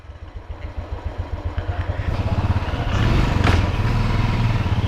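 A motorcycle idles close by with a rapid, even thump, then revs louder and pulls away, its engine note steadying as it rides off.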